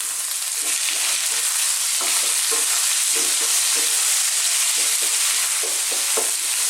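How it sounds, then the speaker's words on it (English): Sliced onions with garlic and ginger fry over fairly high heat in a pan, a constant loud sizzle broken by repeated scraping stirs of a utensil. "let's throw this around in the pan, stirring all the time."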